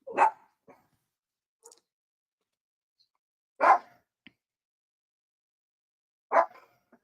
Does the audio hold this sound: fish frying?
no